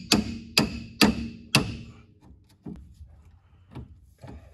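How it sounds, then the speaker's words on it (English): Four sharp metallic hammer strikes on a ball joint separator fork, used to break loose a ball joint on a Datsun 280Z, ring out in quick succession, followed by a few softer, duller knocks spaced further apart. "We're gonna take the hammer and the tuning fork and try and bust that ball joint"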